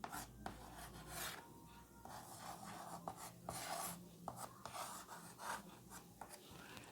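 A pen scratches across paper as a Bengali word is written by hand, quiet close scraping strokes in short bursts with small pauses between them.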